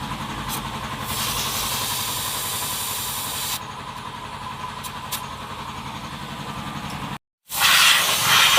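Compressed air blasts through a Honda Click 150i scooter to clean it out, a loud, steady hiss over an idling engine for several seconds, cutting out briefly before a louder burst of air.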